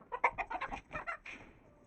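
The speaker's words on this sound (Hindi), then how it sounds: "ये मुर्गा है ना, तो ये लड़ता है" Backyard chickens, a combative rooster with hens, give a quick run of clucks and squawks close by, several short bursts in a row before fading, with no talking.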